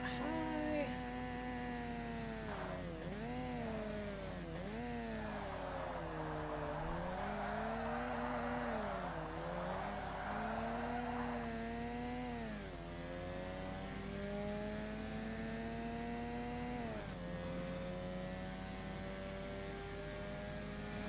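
A race car engine in Forza Motorsport revs out high, its pitch climbing and dipping through sustained gear pulls as a steady, loud drone fills the whole stretch.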